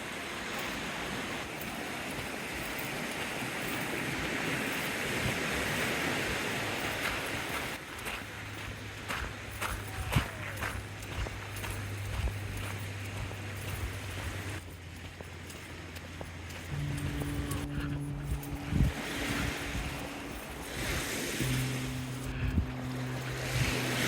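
Surf washes steadily onto the beach beside the Sprey Point seawall, with wind noise across the shoreline; a few low tonal hums from a passing engine or boat join later, and no one speaks.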